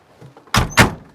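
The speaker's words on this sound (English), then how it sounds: "those doors shut nice, aren't they?" Two solid thunks of a classic VW Beetle's car doors shutting in quick succession, close and fairly loud, no voices.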